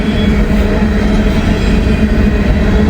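A freight train rumbles past a trackside defect detector, a loud, steady, close roar of rolling railcars with faint wheel clatter throughout and no talking.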